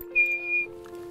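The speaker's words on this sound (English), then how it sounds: "I'm going to whistle." A person whistles a signal to a horse during foundation training: one steady, clear, sustained whistle of about half a second, close and fairly loud, then a quiet pause.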